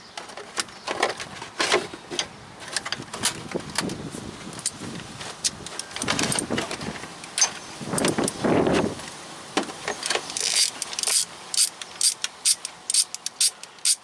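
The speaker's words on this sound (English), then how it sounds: "Now all we have to do is reach up here with an extension and a 10mm." A ratchet fitted with an extension and a 10mm socket loosens a bolt on a 1.8L Toyota Matrix engine, giving bursts of close, crisp ratcheting clicks with brief pauses between strokes and no talk.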